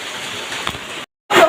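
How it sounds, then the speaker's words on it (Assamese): Heavy rain falling in a village, a steady broadband wash of downpour with a brief cutoff near the end before the rushing noise returns louder. "খালি বৰষুণ বহুত জোৰ কৰি দিছে"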